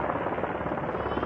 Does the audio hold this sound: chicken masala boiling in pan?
no